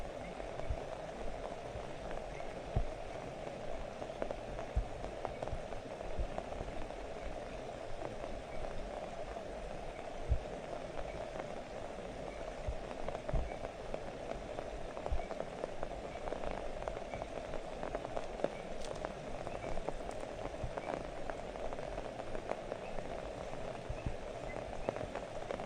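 Steady rain patters at a campsite for a long stretch, a dense, even hiss of drops with occasional sharper taps, fairly faint and uninterrupted.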